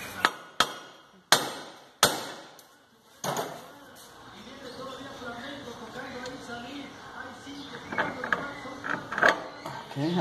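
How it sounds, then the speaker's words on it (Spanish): Small hammer taps on the front strut nut of a Dodge Stratus, five sharp metallic strikes spaced across the first few seconds, followed by lighter mechanical clinking while someone talks. "vamos a darle unos pequeños golpes."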